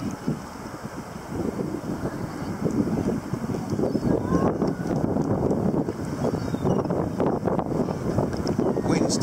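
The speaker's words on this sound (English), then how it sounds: "Wind's turning me round" Strong wind buffets the microphone while sea kayaking off the coast between Lowestoft and Southwold, a continuous rumbling roar with gusts and faint water and paddle sounds underneath.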